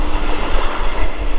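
The 12-coach 31915 Gede local train rushing past close by, a loud, continuous roar and rumble of wheels with no voices.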